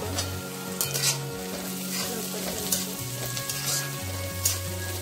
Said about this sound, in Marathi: यामध्ये मी कांदा परतण्यासाठी थोडंसं मीठ टाकत आहे। कांदा छान परततो